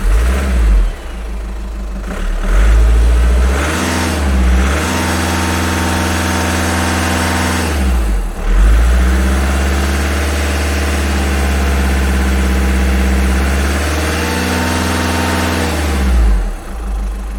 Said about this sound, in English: Just rev the engine for a little bit.